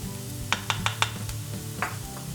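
Flour is stirred into softened onion frying gently in a pan for a vegan Asturian fabes recipe. A soft, steady sizzle sits under a quick run of four or five spoon scrapes and taps, then one more, close by.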